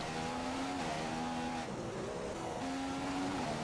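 Formula One race car engine in a racing video game set at Singapore, a loud sustained high-revving whine that holds steady, dips briefly as it shifts, then climbs again, with no talk.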